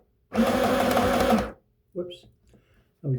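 A sewing machine runs a loud, steady forward stitch through red cotton skirt fabric for about a second, then stops; a voice follows in short bursts.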